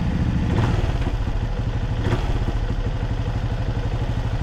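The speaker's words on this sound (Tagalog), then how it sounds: "Stock exhaust pa yan, sir. Classic na classic." A Benelli Imperiale 400 motorcycle with its stock exhaust idles nearby, a steady low thumping putter with a slight clatter and no talking over it.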